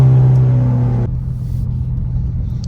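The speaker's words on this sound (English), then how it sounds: "Oh, those downshifts are so good." Ford EcoBoost car with a big turbo drops a gear: a loud droning engine tone cuts off abruptly into a deep, rumbling idle-like exhaust burble, close and steady with no talking.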